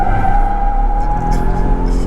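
Lifted truck launching hard with its tires spinning, a loud steady engine drone with tire roar and squeal throughout a brief burst, close and continuous.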